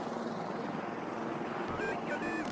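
A helicopter in a horror video game throbs steadily as a dense, loud drone with no talk over it, and a few faint higher tones rise near the end.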